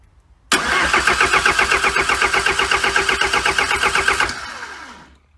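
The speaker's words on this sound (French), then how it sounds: "je vais essayer de faire démarrer mon petit moteur" A Peugeot 318 TDS diesel car engine cranks and fires up, settling into a rough, rhythmic clatter close by for several seconds before being shut off and fading, with no talking.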